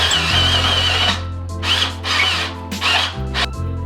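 A power drill bores out a hole in a steel axle spring perch during an axle flip on a custom 1955 Chevy van. It whines loud and close with a high squealing bite, stops and starts in short bursts, and no one speaks.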